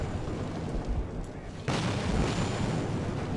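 A thrown grenade blows up in Metro 2033, a single muffled boom that lands abruptly partway through and leaves a rumbling wash of noise after it, with faint game ambience before.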